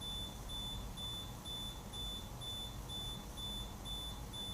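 An electronic beeper sounds short, high, evenly spaced beeps over a steady low hum in a workshop during hydrographic water-transfer carbon painting. The beeps continue at a regular rhythm with no voices.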